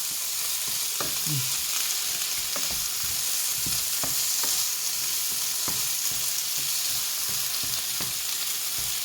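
Potatoes stir-fried dry in a pan give a steady sizzle, with a spatula scraping and tapping against the metal every second or so.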